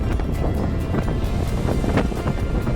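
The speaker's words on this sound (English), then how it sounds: "Okay, so now it's getting really windy." Strong wind buffets the microphone on an open cruise ship deck, a steady loud roar of gusts with faint water and ship noise underneath, no talking.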